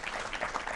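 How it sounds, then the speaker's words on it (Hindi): Studio audience applause on a televised discussion about ragging, as a dense, steady wash of many hands clapping, sustained and even throughout with no one speaking over it. "जोरदार तालियां"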